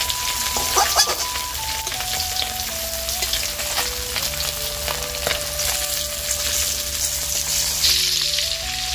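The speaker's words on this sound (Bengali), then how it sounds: "সবার শেষে দেখো মাছগুলো আমার ভাজা হয়ে গিয়েছে" Fish frying in hot oil in a home kitchen pan, a continuous crackling sizzle with scattered pops, steady and close throughout as a melodic tone runs faintly underneath.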